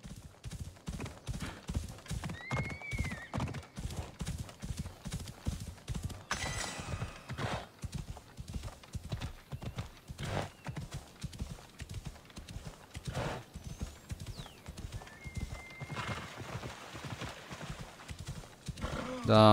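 A horse gallops through a city street in Assassin's Creed Odyssey. Its hooves beat in a steady, close clip-clop rhythm for the whole stretch, with faint background voices and game ambience beneath.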